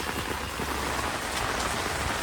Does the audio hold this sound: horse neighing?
no